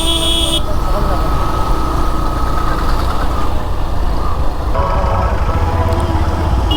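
Busy road jam of cars and motorbikes, a steady dense rumble of engines with a brief horn toot at the start and more honking later, voices faintly mixed into the traffic noise.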